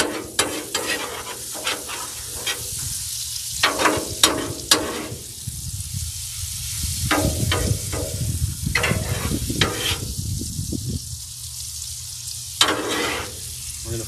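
Bananas foster frying in its liquid on a Blackstone griddle makes a loud, continuous sizzle, broken by repeated sharp scrapes and taps of a spatula keeping the fruit moving.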